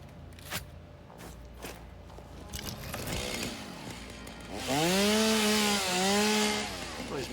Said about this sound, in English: I'm gonna swap this out for chainsaw